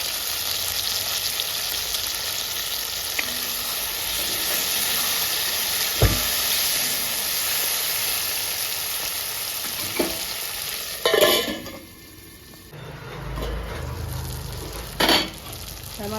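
Tomatoes and tamarind fry in oil in an iron kadai, a loud, continuous close sizzle with hiss, broken by a few sharp scraping and clanking stirs near the end, no voices.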